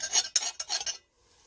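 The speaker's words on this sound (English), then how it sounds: "All I do is take a butter knife and scrape it a little bit." A butter knife scrapes the burn basket of a GAP2020 rocket stove, making three or four close, raspy metal-on-metal strokes in a quick rhythm before going quiet.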